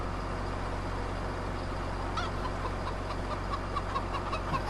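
Chickens cluck softly on a farm in Farming Simulator 17, a few faint intermittent clucks over a steady low ambient hum.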